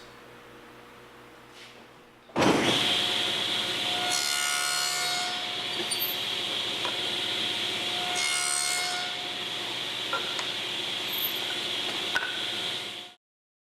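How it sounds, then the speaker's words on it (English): A power saw cuts the ends of wooden pieces for door tenons, starting abruptly and running loud and continuous for about eleven seconds with a few rougher bursts as it bites, then stopping. "Now we're ready to go ahead and make the cut on the 4 ends of the pieces."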